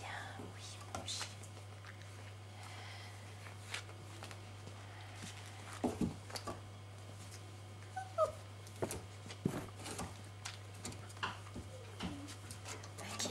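Puppies in their pen whimper with faint, high, scattered whines and soft yips over a constant low hum, with quiet speech and whispering nearby.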